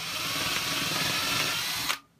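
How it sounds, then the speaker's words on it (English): A power drill runs continuously at high speed boring about a quarter inch into a wooden cigar box guitar neck, a dense whine that cuts off sharply near the end. "I'm just gonna send that drill bit down in."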